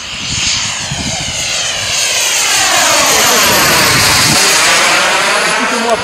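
Engine of a radio-controlled model Sukhoi 27 airplane in flight, a loud whining drone that rises and sweeps in pitch as it passes close overhead, with a voice faintly beneath it.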